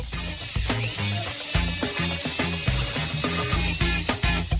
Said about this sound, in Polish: A jeśli spróbować wiertarką?